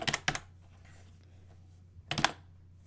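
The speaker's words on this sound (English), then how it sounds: "It's the one time you need to type." Two quick bursts of typing on a computer keyboard while entering game code, a cluster of clicks at the start and another near the end, separated by a quiet stretch with a low steady hum underneath.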